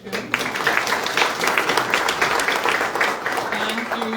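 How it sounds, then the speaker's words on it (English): Applause from an audience at a veterans wall ceremony, honoring the master of ceremonies; a steady wash of clapping lasts throughout, with a voice or two faintly mixed in. "We'll give you a round of applause"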